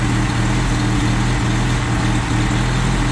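A car engine idles steadily at about 700 RPM after a Joe's Motor Pool distributor swap, giving a loud, close, continuous low rumble with a slightly uneven pulse.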